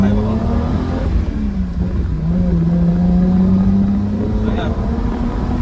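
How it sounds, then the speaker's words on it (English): A car engine idles steadily and loudly up close, a continuous low rumble with a slight shift in pitch partway through. "we've got the car idling well"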